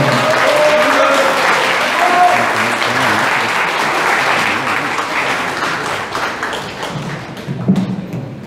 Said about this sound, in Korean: 큰 박수로 환영하고 있습니다.